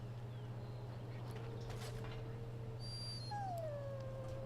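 A sick dog in the video game Dragon Age, with soft whimpers and faint yips over a steady low hum, then a thin rising whine near the end.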